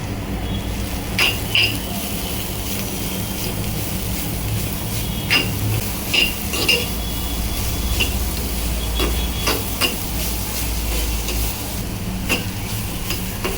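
Grated radish cooking in a pan with turmeric for a dry radish stir-fry, a low steady sizzle with occasional spatula scrapes and clicks, no talking.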